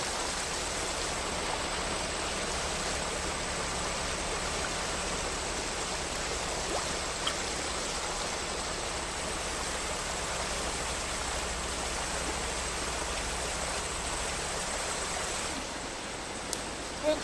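A creek flowing steadily, with a continuous, even rush of water close by and no other clear sounds.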